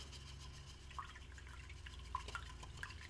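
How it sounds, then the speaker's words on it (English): A paintbrush is rinsed in water, giving faint, sparse drips and small splashes against a low, steady background hum. "I'm going to rinse this brush out."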